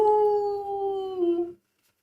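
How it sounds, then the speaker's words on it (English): A single long, sustained howl meant as a werewolf sound effect for a Unity game, a steady, slightly falling human-like wail lasting about one and a half seconds, loud and alone, then ending abruptly into silence. "That is the worst werewolf howl I've ever heard."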